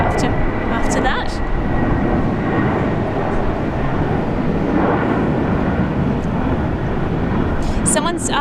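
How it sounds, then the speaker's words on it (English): Jetstar airliner taking off at Sydney International Airport, a steady loud broadband jet roar from a distance with wind buffeting the microphone, a few brief chirps over it. "It was the Jetstar that's taking off"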